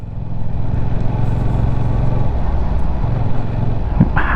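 A Yamaha R7 sportbike engine drones steadily in second gear at around 20 mph, a loud close throbbing note with slight surges as the throttle comes on and off, mixed with wind rush.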